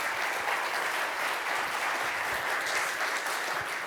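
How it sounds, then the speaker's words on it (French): A conference audience at a web performance talk gives steady, dense applause that stays at an even level throughout. "Un tonnerre d'applaudissements pour lui"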